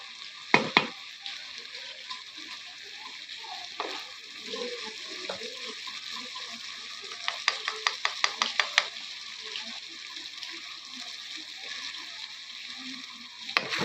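Masala stirred into okra frying in a pan, a steady soft sizzle with a cluster of close spoon scrapes and taps partway through.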